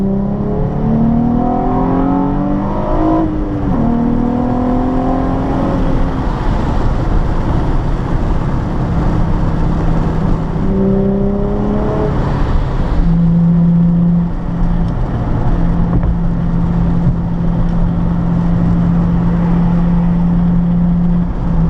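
A Nissan 350Z driving on the road, its engine steady and close with rising and falling pitch as it accelerates and shifts, a continuous drone throughout with no voices.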